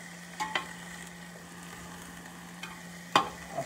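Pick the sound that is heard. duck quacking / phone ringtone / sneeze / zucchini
zucchini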